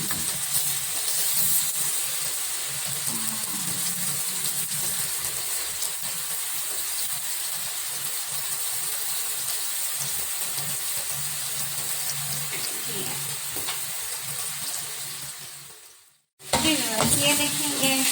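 Five eggs poured into a pan of frying onions set off a loud, continuous sizzle and hiss close by, steady for a long stretch before a brief break and a renewed burst of crackling.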